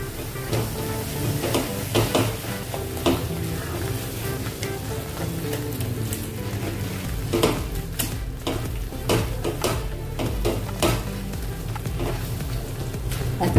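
Besan and spices with salt and Kashmiri chili powder stirred and fried in a pan, a steady close sizzle with repeated scraping and clinks of the spoon against the pan.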